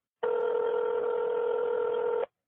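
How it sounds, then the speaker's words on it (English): A telephone rings on an outgoing call, heard as one steady, continuous ringback tone lasting about two seconds that starts and stops abruptly, with no voices. "I'm gonna give it one more ring."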